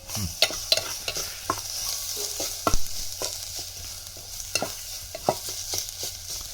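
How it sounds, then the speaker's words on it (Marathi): Spices and coriander stems frying in a hot oil tempering for a Konkan-style val, brinjal and potato curry, a steady close sizzle broken by frequent sharp scrapes and clicks of stirring. "आता आपण हे सगळे मसाले एकजीव करून घेतोय फोडणीला"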